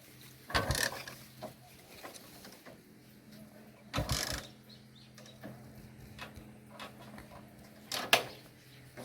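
A motorbike gets three sharp, ratcheting kick-start strokes, each roughly four seconds apart, with quiet gaps between and no engine catching.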